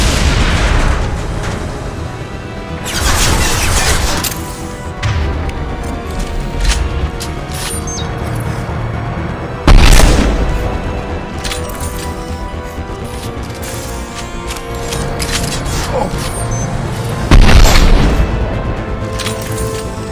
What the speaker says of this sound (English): That fuel tank's coming! That's it! Shoot it down!